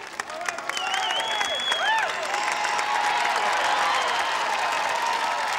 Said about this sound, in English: a nice round of applause for Dwayne